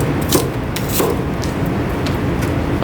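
A knife cuts an onion into thin strips for a home cooking lesson, giving a few soft, irregular chopping taps on a board over steady low background noise, close and moderately loud.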